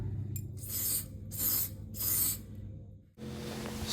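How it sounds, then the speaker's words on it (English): Three short bursts of aerosol spray paint hissing close up onto cardboard, each about half a second, followed by a duller steady noise. "I'm going to give the spray a little try out here on this bit of cardboard"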